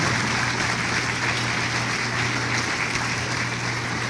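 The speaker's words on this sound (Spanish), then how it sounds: "Dele un aplauso al Señor, lo merece." Church congregation applause during a sermon, a constant dense hiss of many hands clapping, loud and unbroken for four seconds, with a steady low hum underneath.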